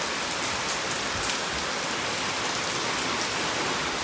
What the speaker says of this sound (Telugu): పొట్టు వాన.